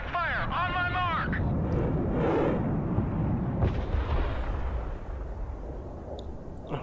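Artillery fire in Broken Arrow rolls as heavy, booming blasts and rumbling explosions that fill the scene, with voices talking over the barrage.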